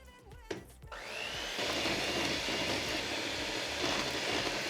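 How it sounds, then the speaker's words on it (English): An electric mixer beats olive oil into an olive oil cake batter in a bowl. After a short clatter at the start it settles into a loud, steady, close whirring drone. "We're gonna mix the olive oil in for about a minute."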